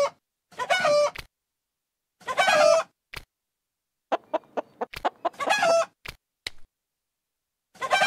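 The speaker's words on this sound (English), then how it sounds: "the hens are laying eggs faster than Farmer Brown can catch them" Synthetic hen clucks and squawks in short bursts separated by silences, with a few clicks and beeps between them, from a children's egg-catching math video game.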